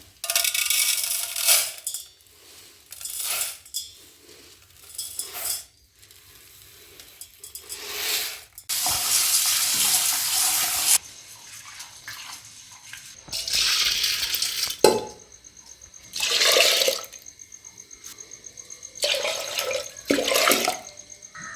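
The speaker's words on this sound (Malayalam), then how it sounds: "നമുക്ക് 3 പിടി പരിപ്പ് കഴുകി വെള്ളത്തിലിടാം." Three handfuls of dal lentils washed in water, with bursts of splashing, pouring and swishing that come and go in several separate rounds, close up, with no talking.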